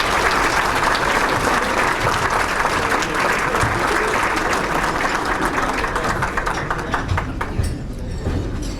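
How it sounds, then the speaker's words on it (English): Audience applause fills a hall at a high school alumni sports hall of fame awards ceremony, a dense, steady wash of clapping that carries on throughout and eases slightly toward the end. "So give him a big round of applause."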